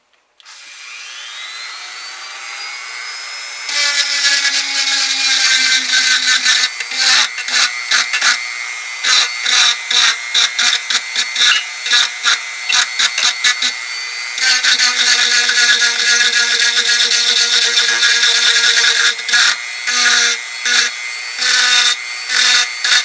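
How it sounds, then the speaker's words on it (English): A Dremel rotary tool grinds glass bedding on a 10/22 rifle, a loud, close high-pitched whine in long bursts broken by rapid on-off pulses, with a brief spin-up at the start. "A little bit of Dremel work there."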